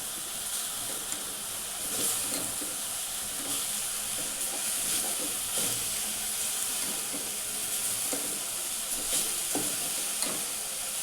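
Modak filling is stirred and sautéed in a pan, giving a steady close sizzle and hiss with soft scraping stirs scattered throughout and no speech.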